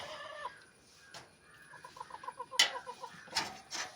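Backyard coop chickens, two hens and a rooster, cluck in quick, close, repeated bursts with a brief squawk and a few sharper calls, fairly faint and without talk.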